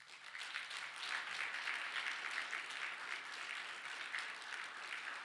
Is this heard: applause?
yes